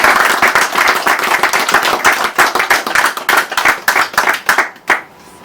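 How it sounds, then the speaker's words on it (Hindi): Loud applause breaks out at a Constitution Day event organised by an SC-ST federation, a thick burst of clapping that gradually thins into separate sharp claps and ends after about five seconds. "जोरदार ताली।"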